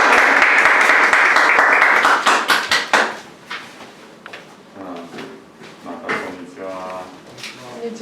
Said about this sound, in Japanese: 拍手で迎えましょうか。